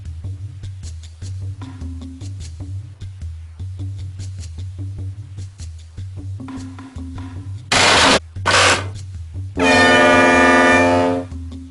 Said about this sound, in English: That was a lovely foghorn